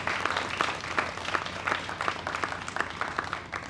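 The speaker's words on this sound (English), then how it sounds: "We can give a much more resounding round of applause for that." Audience applause at a Guyana and Caribbean vaccination launch event, a steady wash of many hands clapping with dense, even rhythm throughout, moderately loud and continuous without talk.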